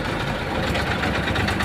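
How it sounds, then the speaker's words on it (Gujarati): A faulty tractor engine idles with a steady low, rough rumble and vibration, close and continuous, never revving up to pull away. "ટ્રેક્ટરને કોઈ ખરાબ થઈ ગયું છે, થોડું તે ઉપડતું નહીં"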